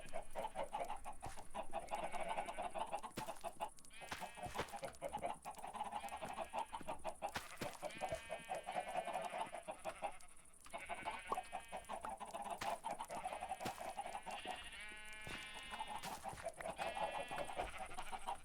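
Chickens cluck repeatedly in the Ancient Kingdoms 3 video game, a steady run of farmyard clucks and squawks at moderate level throughout.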